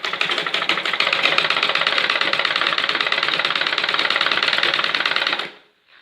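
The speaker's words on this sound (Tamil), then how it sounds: "எங்களோட மிஷின் ஒரு 10-15 வருஷம் ஆச்சு." A 10–15-year-old sewing machine stitches curtain fabric in a fast, even mechanical clatter close by, running steadily for about five seconds before stopping abruptly into near silence.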